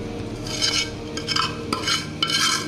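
A spoon scrapes and stirs a mashed potato mixture in a bowl, the strokes coming in several loud bursts with clinks of utensil on the dish and no talking.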